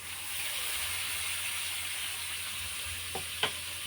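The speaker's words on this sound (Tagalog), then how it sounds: "Ilagay na natin tong ating marinated na pork." Steady, close sizzling of marinated pork frying in a hot pan, with a couple of sharp utensil clinks near the end.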